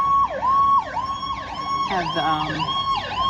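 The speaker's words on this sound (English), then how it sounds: "our ambulance coming through" An ambulance siren wails down a nearby street, its repeating rising-and-falling tone loud and close, swelling into overlapping horn-like blasts midway as it passes; a voice briefly speaks.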